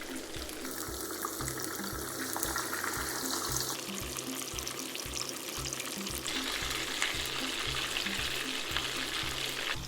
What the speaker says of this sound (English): I'm just gonna heat up my oil and fry until golden brown